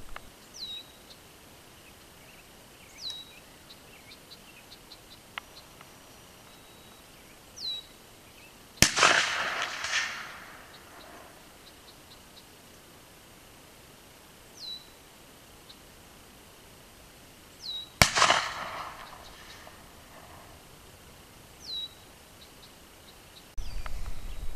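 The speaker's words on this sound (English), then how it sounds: "Gonna be shooting 357 Magnum with the Remington 158 grain semi-jacketed hollow point, my hand load" A .357 Magnum revolver fires Remington 158-grain semi-jacketed hollow point hand loads outdoors: two loud, sharp shots spaced several seconds apart, each with a brief echoing tail, while birds chirp faintly in the background.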